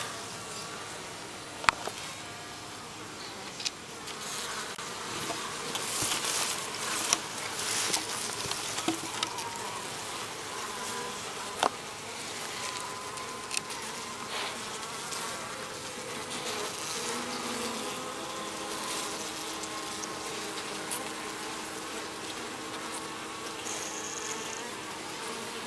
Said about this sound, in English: Okay, there's more bees in there. They found their way in.